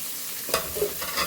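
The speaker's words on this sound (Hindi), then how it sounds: "हमारा प्याज भून रहा है।" Chopped onions frying in a pan, a soft steady sizzle with a few brief stirring scrapes, close and fairly quiet, no talk.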